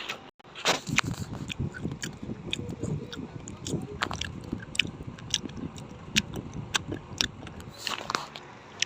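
Crunchy onion and cheese flavoured snack bitten and chewed close to the mic, a steady run of crisp crackling bites and wet chewing over several seconds with no talk.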